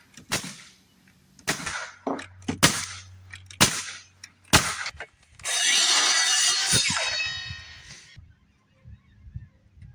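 Nail gun firing into deck framing while building a waterfront deck: several loud, sharp shots at irregular intervals, close by, with a sustained hiss or whir of a tool in the middle and some faint background hum.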